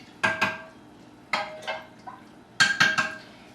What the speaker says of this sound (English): you're going to mix with a wooden utensil